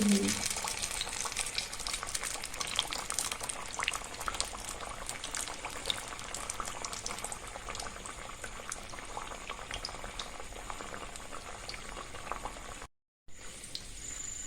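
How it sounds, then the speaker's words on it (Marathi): Malvani vada frying in hot oil, a dense continuous bubbling and crackling sizzle that stays steady and close for the whole stretch, with a brief dropout near the end. "त्यात आता आपण एक एक एक एक वडा सोडून घेऊयात आणि पूर्णपणे तळून"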